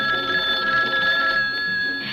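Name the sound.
kitchen telephone bell ringing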